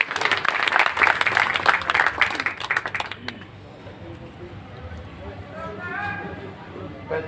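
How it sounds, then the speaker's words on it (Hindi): Applause at a ceremony honouring a guest at a nursing hospital, a loud burst of many hands clapping for about three seconds, then fading into quieter room noise. "मान्यवर विधायक जी भी जयदीप जी का सम्मान करते हुए जोरदार तालियां।"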